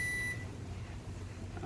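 A Japanese induction rice cooker gives one clear electronic beep as a button is pressed, then a low, steady hum continues with no talking.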